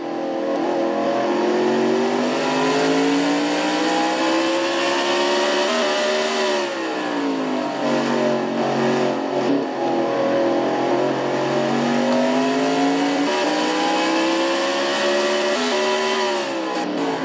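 Onboard race car in a Castrol GTX Cup Series race, engine screaming continuously at high revs as wheel spin sends the pitch surging and dipping, loud and close with no talk.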